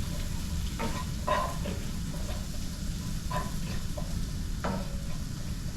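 Chickpeas cook in a pan with curry, onions and garlic: a soft, continuous sizzle broken by a few spaced scraping stirs, fairly close and quiet.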